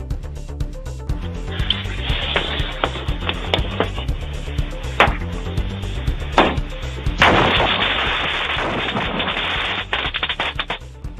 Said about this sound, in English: A security camera catching the culprits on a porch, knocking on the door, then lighting the fireworks and taking off.